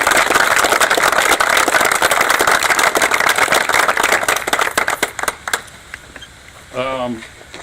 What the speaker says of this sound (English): So if you give them a round of applause, I would appreciate it.